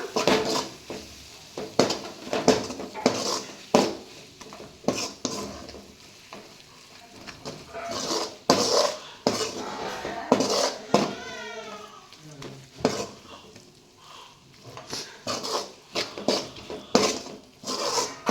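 Spice powder stirred into a prawn curry masala in a pan, with repeated scraping and clinking strokes of a spoon against the pan and a soft sizzle, close up, while someone talks in between.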